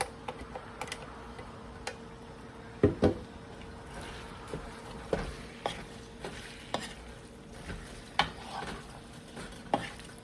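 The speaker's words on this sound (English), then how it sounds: "And now I'm going to be adding in my onions." Chopped onions sautéing in a pot for canned sloppy joe filling, stirred with a utensil that gives scattered clicks and scrapes over a low, steady sizzle, close by with no talking.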